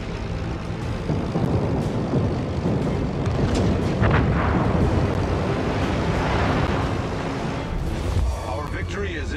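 Incoming naval gunfire and shell explosions in the World of Warships game, with the USS Midway in play: a dense, continuous roar of booming impacts and rumbling blasts with sea-like wash, loud and sustained across the whole stretch.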